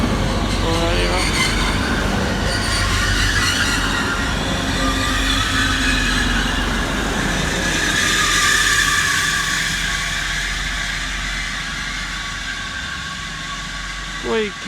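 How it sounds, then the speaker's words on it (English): A two-car diesel train pulls into a platform at Loughborough station, its brakes squealing in a high, drawn-out screech over the steady rumble of the engine, with people talking nearby. "Squeaky brakes."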